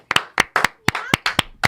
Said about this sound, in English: put your hands together and start clapping it up for my man